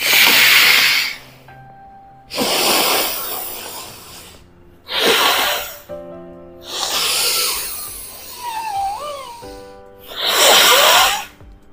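Forceful breaths through the nostrils during anulom vilom pranayama come as five loud, hissing bursts a couple of seconds apart, close to the listener, with faint tonal background music between them.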